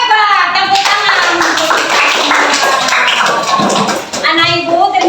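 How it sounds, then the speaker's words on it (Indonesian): Children in a classroom clap their hands together loudly and close, a busy burst of overlapping claps, with children's voices chattering and calling out over it before and after. "Tepuk tangan"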